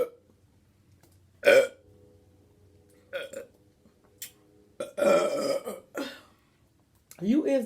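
Loud, deep burps come up during a burping challenge between people at home. Several burps sound close in irregular bursts over a quiet background, with some laughter or vocal sounds mixed in near the end.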